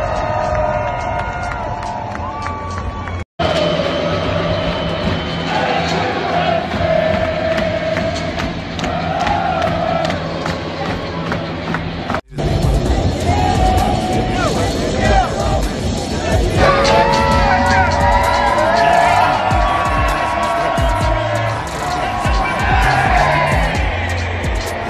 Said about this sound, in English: watch Davido's entrance into the stadium as the crowd were cheering him up